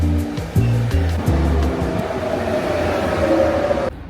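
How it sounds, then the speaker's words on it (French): An RER commuter train arrives at a Paris station, with tonal squeals and clanks at first, then a loud, steady rolling rumble that cuts off sharply near the end. "On va prendre le petit RER qui vient d'arriver."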